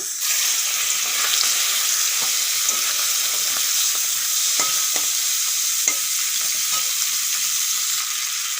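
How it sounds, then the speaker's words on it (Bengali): Steady, close sizzle of shrimp frying in hot oil, with occasional sharp clicks of stirring throughout and no talking. "হলুদ লবণ মাখানো চিংড়ি মাছগুলো ভেজে নেব"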